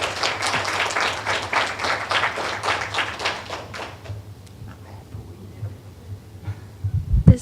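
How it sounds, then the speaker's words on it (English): A crowd at a graduate hooding ceremony applauds with dense, steady clapping that gradually thins and fades toward the end, leaving a low hum and a few scattered sounds. "You should give yourself a round of applause."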